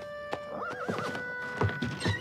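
A horse's whinny in a Playmobil princess adventure story, a rising and falling neigh followed by a few soft hoof clops, close and clear with no talk over it.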